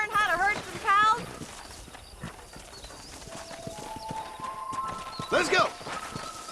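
Horse hooves clip-clopping at a gallop in the Red Dead Redemption western game while herding cattle, rhythmic thuds under shouted speech, with a whinny near the end.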